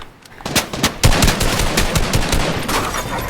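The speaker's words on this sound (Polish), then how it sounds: "O, coś do mnie strzela, a ja nie mam rzeczy" Gunfire in the Fortnite video game, rapid bursts of loud shots rattling close by in quick succession for several seconds, with no voices over it.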